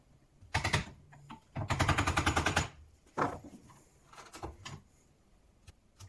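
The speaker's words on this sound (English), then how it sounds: "use a big old chisel for doing down here, much quicker" A large chisel cutting into soft mahogany on a sleigh bed side being cut down, a run of sharp rapid scraping and chopping strokes in several bursts, close and fairly loud, with no speech.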